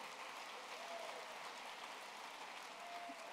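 A convention crowd at a Kansas FFA opening session applauds, a steady wash of many hands clapping heard from a distance, faint and even throughout.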